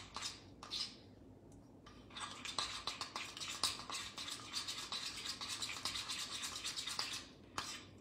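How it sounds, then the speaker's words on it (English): A utensil scrapes and clinks rhythmically against a bowl while stirring chopped dark and milk chocolate as it finishes melting, a quiet, close, steady scraping. "जो चॉकलेट हमने मेल्ट की थी उसको हम एक बार अच्छी तरह से मिला लेंगे"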